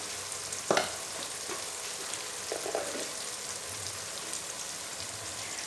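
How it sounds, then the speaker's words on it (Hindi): Mashed tomatoes with turmeric and red chili sizzle steadily in a pan, close and even. A few sharp scrapes and clinks from stirring cut through the frying hiss. "टमाटर बिल्कुल इसके अंदर मैश हो चुके हैं। अब इसके अंदर हम डाल देंगे स्पाइसी।"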